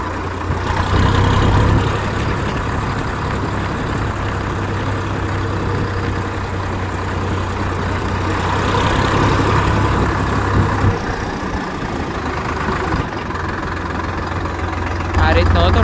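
A Sonalika DI-745III Sikander tractor engine idling nearby, a loud, steady low diesel rumble that swells slightly in the middle and again at the end, with someone talking over it.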